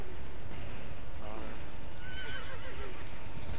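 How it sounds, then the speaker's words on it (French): Horse whinnying from the killer's mount in Dead by Daylight, a descending neigh around the middle of the clip under game ambience and a voice talking. "Avec le cheval là qui fait du bruit derrière moi."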